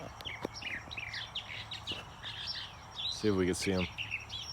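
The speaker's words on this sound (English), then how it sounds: "There's a chatty mockingbird out here. I came out to record him, but he stopped singing until just now." Northern mockingbird singing outdoors in varied, rapid chirps and warbled phrases at moderate distance, with a person speaking briefly over the song.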